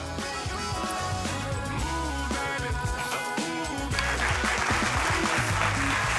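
A theatre audience at a stand-up comedy show breaks into applause, the clapping filling the room continuously and swelling louder toward the end.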